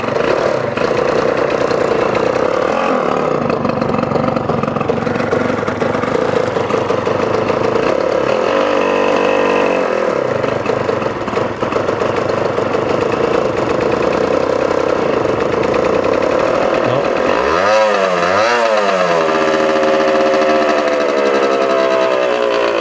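A Yamaha TZR 250 two-stroke motorcycle engine runs steadily and loudly right after a first-kick start, its raspy buzz continuous, with revs rising and falling in a few sharp blips near the end.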